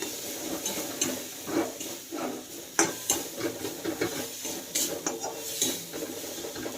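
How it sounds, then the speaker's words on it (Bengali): Ghugni with Maggi masala is stirred in a pan, giving repeated scraping clinks of a spoon against metal over a soft sizzle, close and moderately loud with no talking. "তো এটাকে খানিকক্ষণ নাড়তে হবে।"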